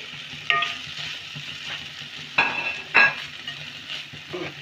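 Onion, capsicum and tomato frying in a pan for paneer rolls, with a soft steady sizzle broken by a few sharp scrapes and clinks of the spatula as the vegetables are stirred.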